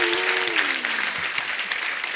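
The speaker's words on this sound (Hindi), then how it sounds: "जोरदार ताली हो जाए" Studio audience at a Hindi comedy show breaking into loud, dense applause, steady clapping throughout with a brief sustained tone fading under it.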